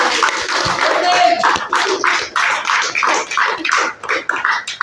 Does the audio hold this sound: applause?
yes